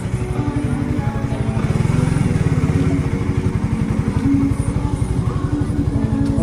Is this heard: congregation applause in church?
no